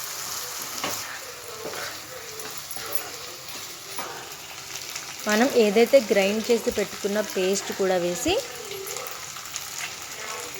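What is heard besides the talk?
prawns frying in oil in a pan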